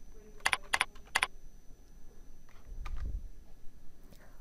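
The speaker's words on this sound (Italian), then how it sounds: "digitare il nome della banca dati, Trip." Keys on a computer keyboard are tapped in three quick clustered bursts, then a few softer scattered clicks over a quiet room hum, close and crisp with no voice over them.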